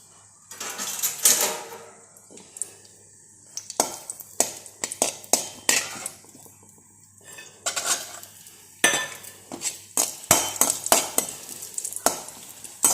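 Cashews stirred and fried in a pan for shavige payasa, with a steady sizzle under repeated sharp scrapes and clinks of a metal spoon against the pan, close and fairly loud.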